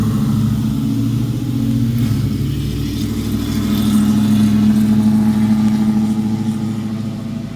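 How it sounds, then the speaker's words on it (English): A loud vehicle rumbles past with a deep, throaty exhaust drone that swells and then fades, steady and close, with no voices. "I had to wait for that vehicle to pass. The exhaust system is loud."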